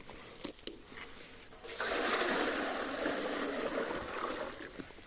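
Water is poured out for oxen to drink in a village: a quiet rustle at first, then a steady splashing gush starts partway through and carries on to the end, with no voices.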